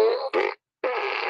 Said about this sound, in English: This is a Minions, Despicable Me Minions fart gun.